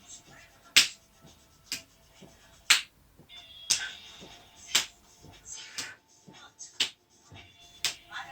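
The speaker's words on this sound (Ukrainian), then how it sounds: "Тепер плескаємо по п'ятці." Hands slap against heels during an aerobics warm-up, giving a steady series of sharp, close smacks about once a second with softer shuffling steps between them.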